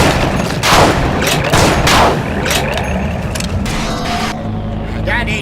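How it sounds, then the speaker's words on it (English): Shotgun and sniper rifle fire in the Touhou Manhunt video game, reworked into magical spell effects, bursts out in several loud close blasts with crackling tails over a busy game soundscape. "The sound effects are given overhauls, like the shotgun, sniper rifle, and other stuff are given more magical sounding things,"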